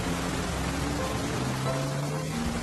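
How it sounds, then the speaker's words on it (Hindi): Heavy rain pours steadily as a dense, even hiss that fills the scene without letting up, with a faint low hum underneath and no voices. "बारिश काफी हो रही है"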